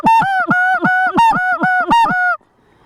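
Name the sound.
snow geese honking during goose hunt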